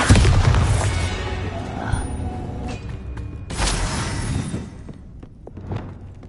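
A Bombarda explosion spell in the video game Hogwarts Legacy, a loud booming blast followed by a second heavy burst and crumbling debris that fades into quieter clatter.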